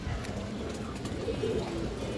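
A pair of Bagha pigeons coos softly and steadily against a low, continuous background hum, the calls faint and close together.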